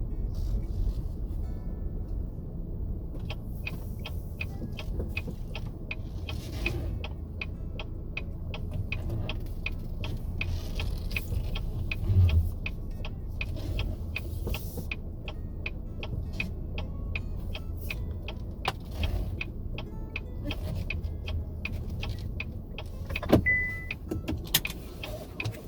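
A car rolls slowly through a large parking lot near a new LRT station in Canada and pulls into a space, its engine a steady low rumble throughout with light ticking and rattling from inside the cabin.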